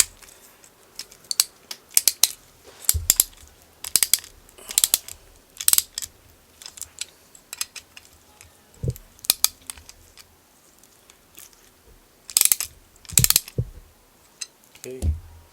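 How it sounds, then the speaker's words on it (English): Ratchet wrench tightening lock nuts with washers on a Losi 5ive T large-scale RC truck kit: bursts of sharp clicking ratchet strokes, close and fairly loud, in irregular clusters with pauses between. "Let's put the lock nuts on."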